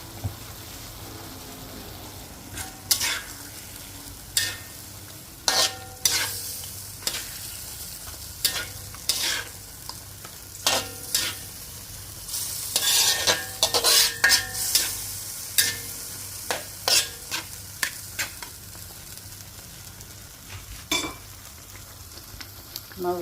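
Chicken curry fries in a pan, a soft continuous sizzle broken by repeated sharp scrapes and clinks of a spoon stirring, close and without talk.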